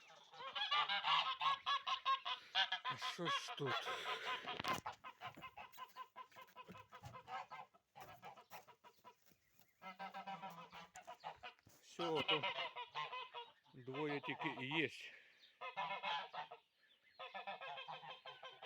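Domestic geese honk repeatedly at close range in a farmyard with a goose and goslings nearby, the bursts of honking and clucking alternating with a person talking between them.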